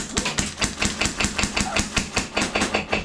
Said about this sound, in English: That's a vehicle.